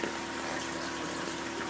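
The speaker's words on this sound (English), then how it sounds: "this pump here sucks water, clean water, out of the bottom of the" An aquaponic bio filter pump draws and pushes water in a steady, continuous watery rush and gurgle, close and even throughout with no voices.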